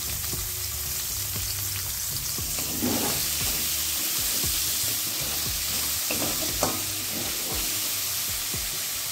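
Two medium chopped onions fry in hot oil with a pinch of salt and turmeric, giving a continuous close sizzle with scattered crackles and the scrape of stirring, and no voices.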